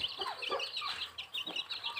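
A hen and her chicks clucking and peeping close by, shrill chick cheeps running almost nonstop over a faint low background, with no voices.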